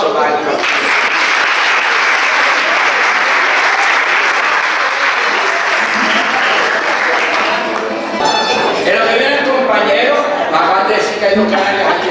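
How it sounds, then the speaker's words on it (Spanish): Sustained loud applause from a large audience at a live Canarian parranda folk music performance in Alicante, a dense wash of clapping that carries on unbroken for the whole stretch, with some crowd voices mixed in. "Fuerte aplauso para él."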